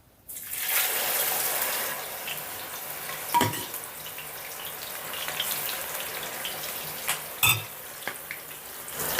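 A second batch of okra goes into hot oil and frying starts, a steady sizzle broken by a few sharp clanks of a utensil against the pan, with no talking.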